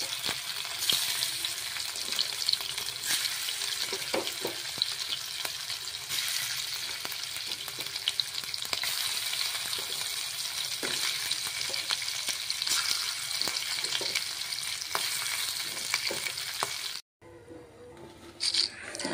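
Catfish pieces seasoned with salt and turmeric fry in hot oil with a steady, crackling sizzle and a soft patter close by. It cuts out abruptly near the end, then briefly resumes.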